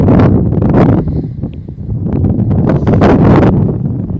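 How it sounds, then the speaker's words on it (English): Gusty wind roars and buffets steadily across a fishing lake at Westwood Lakes during a match fishing festival, loud and close with no break for the whole stretch. "It is quite windy"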